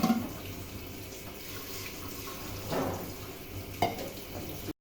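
Water pours into a cooking pot of frying mango for a sweet guramma, a steady splashing rush with a couple of louder surges, no talking.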